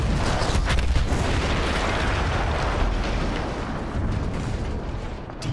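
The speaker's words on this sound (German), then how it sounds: "Diese Explosion war für mich einer der schönsten Anblicke des ganzen Krieges" A big explosion in the World War I shooter Battlefield 1, a loud roaring blast that rolls on for several seconds as a rumbling, crackling wash before slowly fading.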